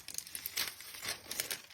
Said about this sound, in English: So I'm going to turn this over, and I'm going to just peel that paper off.